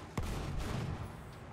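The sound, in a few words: pulse weapon shot in a video game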